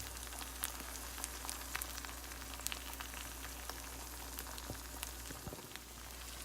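Eggs frying in a pan for a fried egg omelette, giving a faint, steady crackling sizzle with scattered tiny pops over a low background hum, with no one speaking.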